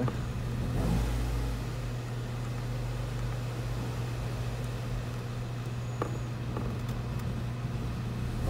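A 2010 Chevy Aveo engine runs at a cold start with all cylinders misfiring, giving a steady, close, low idling drone throughout.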